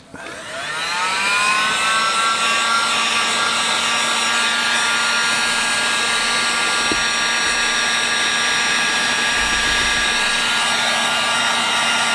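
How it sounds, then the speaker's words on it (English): A hair dryer drying watercolor paint whirs up and runs steadily at close range, a loud constant blowing hum with a high whine, no talking. "let's use the blow dryer. And we'll just dry this off a little bit."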